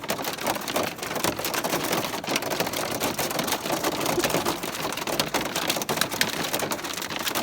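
Hail a little bigger than peas pounds a van on the road in Colorado, a dense, loud, continuous clatter of countless hard impacts on the metal body, with no voices.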